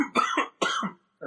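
A person coughs twice in quick succession, close and fairly loud, each a short rough burst followed by a brief pause and the start of another.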